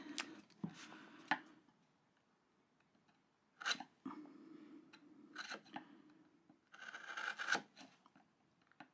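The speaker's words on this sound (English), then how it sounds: "you can actually put your chisel straight into it like this" A hand chisel pares wood to cut a rebate, giving quiet intermittent scraping and slicing strokes in uneven bursts separated by near silence.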